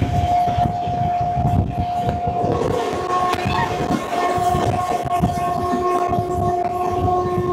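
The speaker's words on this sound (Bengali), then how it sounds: "ট্রেন নম্বর 22-708 তিরুপতি থেকে Visakhapatnam double decker AC express" The Tirupati to Visakhapatnam double decker AC express rumbles along, a loud steady rolling roar of wheels on track with a sustained high whine running through, heard close and continuous.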